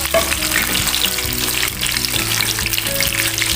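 Chicken katsu fries in a pan of hot oil, a dense, steady sizzle and crackle that runs loud and continuous throughout, with no voices over it.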